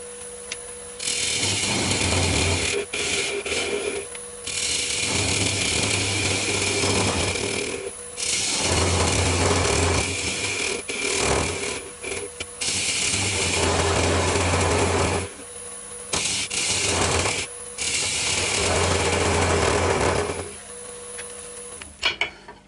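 Wood lathe turning a bowl held in small button jaws, a loud continuous grinding hiss of the tool cutting in long passes, broken by several short pauses and restarts.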